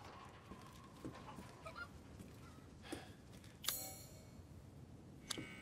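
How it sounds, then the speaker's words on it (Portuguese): Chickens cluck in scattered, faint calls in the village of Resident Evil Village, with a sharp clank and a few louder squawks over a quiet ambient bed. "Calma, suas galinhas."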